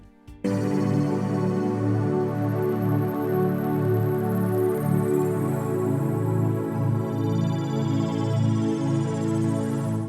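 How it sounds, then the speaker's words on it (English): Warm synth bass in a music production mix, a dense, steady low tone with throbbing movement and bright upper harmonics sustained throughout, full and loud with no voices. "I just kept the warm synth bass and it still sounds like this."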